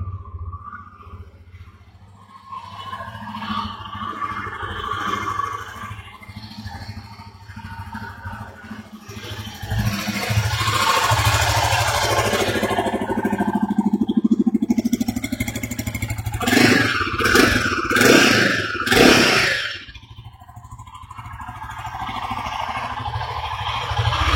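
A 2024 Royal Enfield Guerrilla 450 motorcycle engine runs close by, idling with a low steady rumble, briefly revving in short bursts before settling again.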